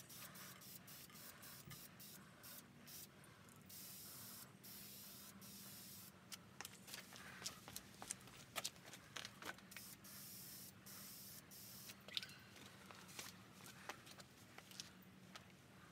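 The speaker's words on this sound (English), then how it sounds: "But I'll go ahead and spray the back of the neck" Spray lacquer hisses onto the back of a handmade electric guitar neck in short, quiet bursts with brief pauses, close by in a quiet workshop.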